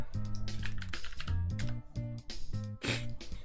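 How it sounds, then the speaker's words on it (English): Fingers tap quickly across a computer keyboard, a close, crisp run of clicks and clacks in uneven bursts with short pauses, with no voices heard. "let me type it here"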